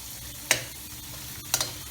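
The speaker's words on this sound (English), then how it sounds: "Just saute for 1 minute till the onions become translucent." Onions sautéing in a pan for noodles and fried rice, a faint steady sizzle broken by two sharp scraping stirs about a second apart.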